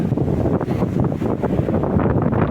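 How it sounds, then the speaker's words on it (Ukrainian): Strong wind buffets the microphone on a hilltop by the castle above Senj, Croatia, a steady, loud, low roaring rush with constant gusting and no voices. "на горі, звісно, вітер дує капець"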